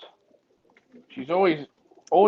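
A racing pigeon hen coos in two close, resonant bursts, with soft rustling and faint sounds between them.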